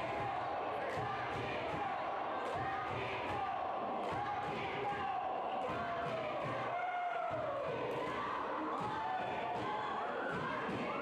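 Loud wrestling crowd at an event in Barberville, Kentucky, cheering and roaring steadily, with rising whoops and shouts, scattered thuds and ring impacts under a constant dense wash of voices.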